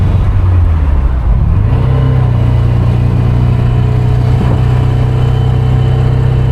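A low-torque car engine drones steadily while driving, dropping to a lower gear for an incline; the loud, continuous low hum shifts in pitch early on, then holds a sustained rumble with no talking.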